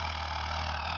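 A pure vocal growl made without voicing, a throat distortion technique used in singing, produces a steady, continuous rough buzzing rattle that holds at even loudness for a second.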